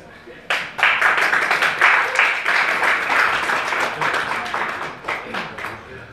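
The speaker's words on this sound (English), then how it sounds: "Another round of applause for Mr. Pizza Karras." A crowd bursts into loud applause that carries on steadily for several seconds before tapering off slightly.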